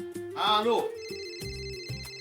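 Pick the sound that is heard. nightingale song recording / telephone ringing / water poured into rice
telephone ringing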